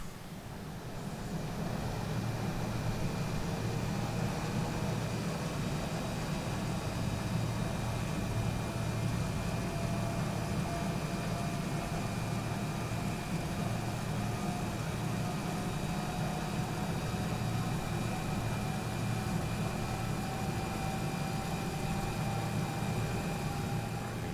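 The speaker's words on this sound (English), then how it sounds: "there's a clean start on engine number 1" MD-80 jet engine number one spooling up through a start in the X-Plane 10 flight simulator, a steady broadband whine and low rumble holding evenly from start to finish with faint tonal hums.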